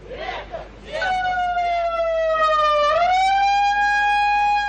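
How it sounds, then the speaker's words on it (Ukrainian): A siren wails at a 2008 student protest picket outside Ukraine's education ministry, a long, steady tone that dips and then rises again, loud and close, after a brief burst of voices at the start. "Під завивання сирени"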